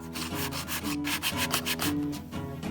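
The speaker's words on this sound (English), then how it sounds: "When it's dry, sand it a bit for smooth looking." Sandpaper rubbing steadily over a dried cardboard hammer prop, a close, continuous scratchy rasp in repeated back-and-forth strokes with no voices.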